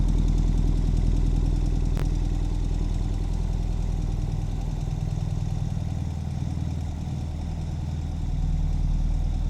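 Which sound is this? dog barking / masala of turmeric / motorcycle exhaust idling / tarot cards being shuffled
motorcycle exhaust idling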